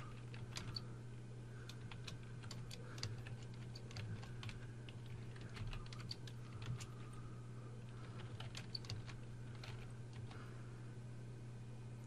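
Rapid keystrokes on a computer keyboard while HTML code is entered, irregular clusters of light clicks over a steady low electrical hum, fairly close and with no talking.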